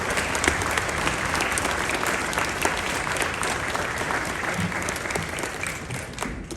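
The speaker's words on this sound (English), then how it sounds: "please join me in a round of applause" A large crowd at an infantry basic training graduation at Fort Bragg gives sustained, dense applause. The clapping stays loud and steady from start to finish with no pauses.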